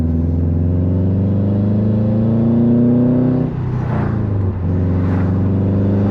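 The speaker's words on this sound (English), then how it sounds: "I love the sound of this car." A car engine revs steadily, its pitch climbing, then drops sharply twice as the throttle is released; loud and close, with no talking.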